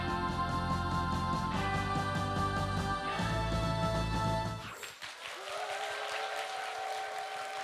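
An audience at Daejeon Hanbit Methodist Church applauds to welcome a guest mentor. Steady music plays first, then broad, dense clapping rises partway through and continues under a lingering tone.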